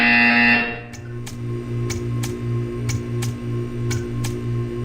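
A flat electronic buzzer from the Portal 2 video game sounds loudly at the start, then gives way to a steady low hum with a string of faint regular clicks behind it.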